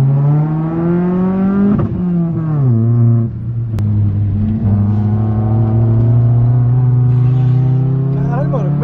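A Honda Civic coupe EJ8 engine on a race track, revving loudly and steadily with rising and falling pitch as it drives through corners, and a brief dip before it climbs again.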